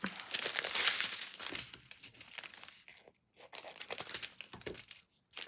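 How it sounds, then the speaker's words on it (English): Plastic packets crinkle and rustle while a diamond painting kit is sorted and bagged, with steady close crackling and tearing sounds that pause briefly about halfway, then resume. "Sorry for the rustling. That is unfortunately part and parcel of kit ups."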